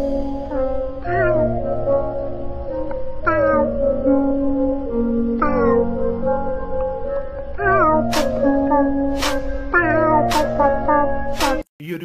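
A cat meows repeatedly in drawn-out, rising and falling calls, loud and close, with several separate meows following one another and a few sharp clicks near the end.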